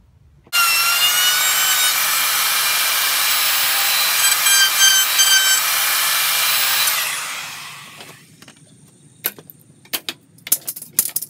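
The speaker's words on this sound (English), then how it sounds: "I'm just going to router that out so it's nice and smooth on the edges" A router fitted with a ball-bearing bit rounds a roughly quarter-inch radius along a pallet wood edge, a loud steady high whine running about six seconds before spinning down, followed by a few sharp knocks and clatters, with no talking.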